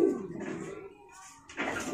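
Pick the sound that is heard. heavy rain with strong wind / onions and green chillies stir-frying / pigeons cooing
pigeons cooing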